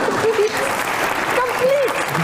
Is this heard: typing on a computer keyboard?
no